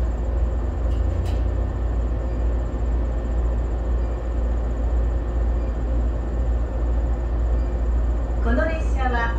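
Low steady rumble of an idling Shinano Railway Kita-Shinano Line local one-man train at a station before departure, with a constant hum, a couple of brief clicks early, and a short chime or announcement tone at the end.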